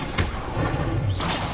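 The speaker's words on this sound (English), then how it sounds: "Incendio." Incendio fire spell cast in Hogwarts Legacy: a quick whooshing burst with a thud at the start, a brief rushing flare in the middle and a second sharp burst near the end, close and fairly loud.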